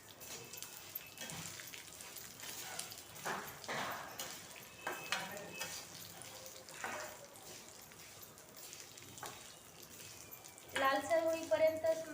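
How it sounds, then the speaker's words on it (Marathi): Fenugreek seeds are roasted and stirred in a pan, giving soft scraping and rattling with a light sizzle, fairly quiet, and someone talks over it. "यामध्ये आता मी मेथी भाजून घेणार आहे"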